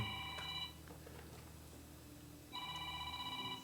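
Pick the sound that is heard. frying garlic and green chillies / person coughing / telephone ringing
telephone ringing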